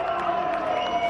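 A crowd at a local football grand final cheers and claps for captain Anton Riley in a steady, distant roar with a commentator speaking over it.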